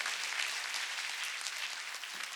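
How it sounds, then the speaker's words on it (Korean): A church congregation claps together during a Korean Sunday worship service, a steady, dense wash of hands that holds evenly for a couple of seconds with no voices on top. "박수로 하나님께 영광을 돌립니다."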